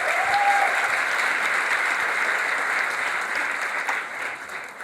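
Sustained audience applause at a Skopje Pride storytelling event, a dense steady wash of clapping that stays loud throughout and thins slightly near the end, with no voices over it.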